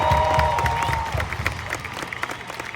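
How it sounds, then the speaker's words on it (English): An outdoor audience at the Hollywood Bowl applauds: a short, dense spatter of clapping from a large crowd, steady and fairly close. "Can you give a massive round of applause to these guys?"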